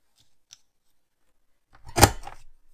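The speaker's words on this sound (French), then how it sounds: "Je vais prendre ma perforatrice trio inégalé et je vais utiliser le papier qui coupe en diagonale" Trio paper punch beveling paper diagonally, heard as a short crisp snipping crunch after a moment of near silence, with a faint earlier click.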